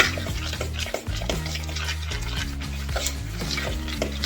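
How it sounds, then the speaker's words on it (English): A spoon working through corn dog muffin batter in a bowl, with quick rhythmic scraping and clinking against the sides and a few brief pauses. "we're just going to stir it up"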